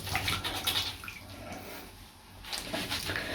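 Water splashing in a bath as a mermaid doll is washed by hand: soft, close sloshing and dripping that fades briefly and then returns, with no talk.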